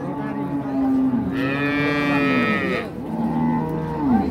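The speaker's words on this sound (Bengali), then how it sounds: "দেখি দেখি, জোয়ান জোয়ান ষাঁড় বাচ্চা।" Young Holstein Friesian bull calves at a busy Cumilla cattle market give loud, drawn-out moos, one long call followed by a second shorter one, close by over a steady crowd murmur.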